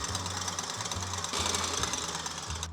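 Egg whites being whipped to stiff peaks with an electric mixer, a steady loud mechanical whir with a pulsing low hum running throughout, no talking.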